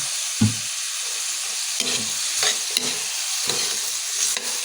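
Chicken liver and batikolon sizzle loudly in a pan after soy sauce is added, with a constant frying hiss and several stirring scrapes and knocks at irregular intervals, close to the pan, without any talking.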